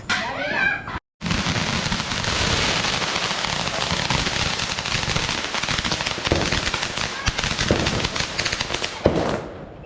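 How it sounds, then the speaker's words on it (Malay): Fireworks on the eve of Hari Raya crackle and pop in a dense, sustained barrage close by, with sharp bursts punctuating the rapid crackling; brief voices at the start. "Main bunga api lagi."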